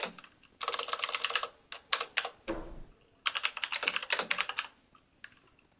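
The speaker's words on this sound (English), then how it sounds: "All I hear is the clacking of the keyboard." A computer keyboard clacks nearby in quick bursts of typing separated by short pauses, crisp and fairly loud against a quiet room.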